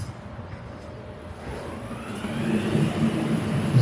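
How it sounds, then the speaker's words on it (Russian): Elevator motors run in the lift machinery room of an abandoned government hotel, a low mechanical drone that steadily builds in loudness and pitch over a few seconds, with no talking. "Здесь работают моторы сейчас. Слышите, работают лифты."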